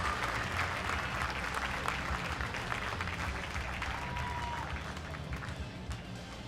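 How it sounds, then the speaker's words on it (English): Spectators at the Pan Pacific Swimming Championships clap in a steady, even wash of applause that carries on throughout, heard at some distance in a large echoing pool venue with crowd murmur underneath. "Fans, how about a round of applause for these ladies getting things started at the 2026 Pan Pacific Championships"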